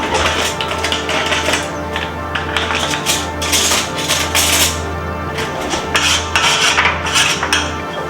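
Potatoes being mixed with oil, salt and pepper in a metal roasting pan give a steady run of near, loud clattering scrapes and clinks of utensil on pan, continuous for several seconds with no talk.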